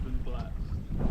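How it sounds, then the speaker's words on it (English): Wind blows steadily across the sea at Mazagon aboard a sailboat, a continuous low rushing roar with microphone buffeting and faint water noise throughout. "There's actual wind for the first time in weeks."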